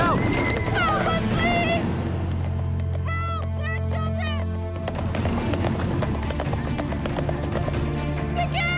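Hooves clatter in a fast gallop under loud, busy music, with a horse whinnying and voices calling out.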